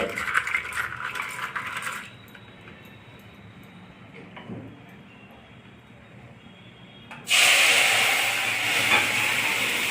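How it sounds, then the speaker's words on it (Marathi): Cumin seeds splutter in hot oil while tempering for a green tamarind and spinach dish, bright crackling bursts at the start, then a quieter lull with a few soft pops before loud steady sizzling returns. "आता आपले मोगरी जिरे तडतडत आहे"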